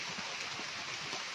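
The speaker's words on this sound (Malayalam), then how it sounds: "ഞങ്ങൾ തൊഴുതിട്ടിറങ്ങിയപ്പോൾ നല്ല മഴ അങ്ങോട്ട് പെയ്തു." Sudden heavy rain falls at Santhigiri Ashram, heard from shelter under a counter as a soft, even hiss with no voices.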